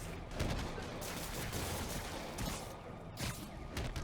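Explosions and blasts rumble through combat in Marvel's Spider-Man video game, a dense, faint, continuous barrage of booms and crackling bursts.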